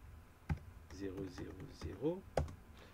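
Typing on a computer keyboard while entering a Cisco router interface command, with a few sharp key clicks under someone speaking French.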